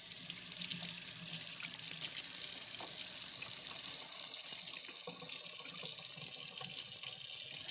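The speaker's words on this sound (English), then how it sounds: "Wash my hands." Water runs steadily from a kitchen tap while hands are washed at the sink during home cooking, a constant close hiss with no talking.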